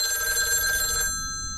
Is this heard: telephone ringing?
yes